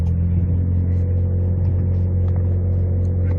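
A Ford Explorer ST engine holds a loud, steady, deep rumble under launch-control revving, a continuous close drone with no rise or fall and no talk over it.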